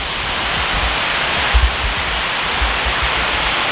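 Water pours down the Waterwall Park water wall in Houston, Texas, making a loud, steady, close rushing roar that never lets up, with no voices.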